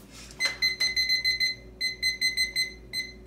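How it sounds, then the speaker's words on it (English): A kitchen oven timer beeps in a rapid repeating series of short electronic tones, with a brief pause in the middle, clear and fairly close, with no talk. "start the timer on those while I get my bread ready"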